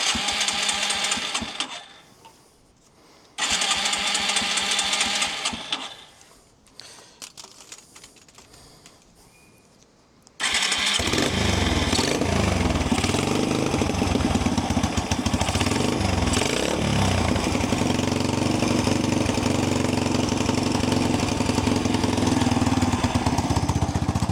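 A 30-year-old abandoned motorcycle engine sputters through a few short attempts and stalls, then catches and runs on in a loud, steady, rapidly pulsing idle close by for the rest of the clip.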